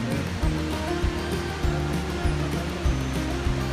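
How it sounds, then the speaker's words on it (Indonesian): Waterfall at Curug Seribu Kaki on Gunung Salak, a loud continuous rushing roar of falling water that fills the scene steadily with no voices. "Air terjun sudah di depan mata."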